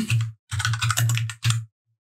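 Keys clatter on a computer keyboard in quick bursts, with four short runs of close, loud typing separated by brief pauses.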